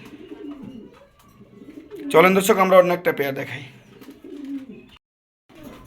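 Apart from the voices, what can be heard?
pigeons cooing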